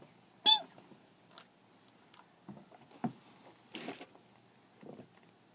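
A house cat gives a few short, distinct meows at close range, spaced apart with quiet rustles and small movements in between.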